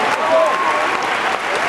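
Audience applause behind the scenes at a concert, a steady dense wash of clapping with a voice briefly over it.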